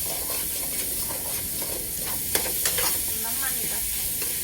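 Pork stir-frying in oil in a pan, a steady broadband sizzle with soft scraping stirs, close and continuous with a couple of sharper clinks near the middle.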